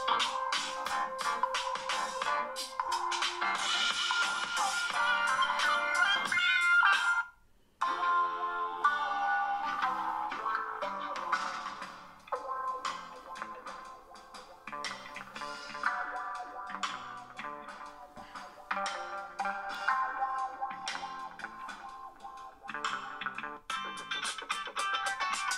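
A Nokia 7 Plus smartphone plays its ringtone at full volume through its single bottom speaker, a tinny, bouncy melody running continuously with one brief gap before it resumes.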